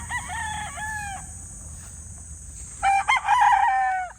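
Two roosters crowing in a Filipino yard of quality fighting gamefowl, one long crow and then a second, louder and closer, over a faint steady background hum.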